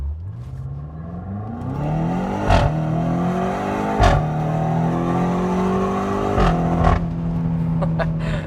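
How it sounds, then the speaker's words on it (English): A BMW X6 M with its stock turbo exhaust accelerates hard through several gears, engine pitch climbing in steady sweeps broken by sharp shift cracks, loud and close with no talking. "for a stock exhaust on a turbo car, this sounds amazing"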